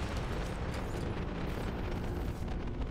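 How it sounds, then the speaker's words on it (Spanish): Explosions rumble in the Mass Effect 2 video game, a continuous loud roaring blast texture with heavy low-end boom and crackling bursts, sustained without pause. "estas explosiones no estaban antes"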